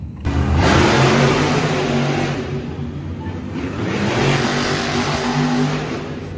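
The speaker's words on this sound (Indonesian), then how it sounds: "lihat di sini ada mobil monster" A monster truck engine revs in a loud, close, continuous roar that swells, eases slightly midway, then climbs again before tapering off.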